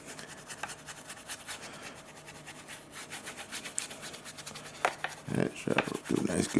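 Dry scratchy rubbing and brushing strokes as powder is worked onto a 1/35 scale model, close up, with a steady rhythm that grows louder and busier near the end.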